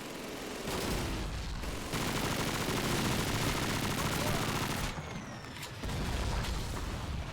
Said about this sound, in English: That's an MG looking right at me.